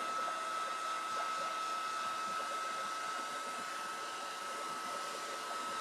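Hair dryer blowing steadily on a canvas bag indoors, a loud continuous whir with a fixed high whine, unbroken for the whole stretch and no talk over it.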